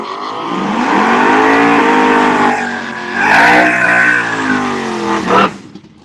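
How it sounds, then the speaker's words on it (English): Street cars at a charity drag race at Mokan Dragway, a loud close engine roaring and revving up through rising gear pitches, holding strong before cutting off abruptly near the end, with no talk. "This is a charity drag race hosted at Mokan Dragway."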